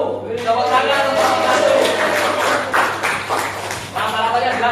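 A classroom group claps for the winning team in a school lesson, scattered hand claps running throughout under steady speech-like murmur and a low hum.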